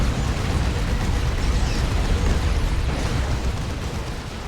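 In the Dawn of War 2 video game, units die in a dense, continuous explosive roar of blasts and booms layered thickly together, loud and sustained throughout.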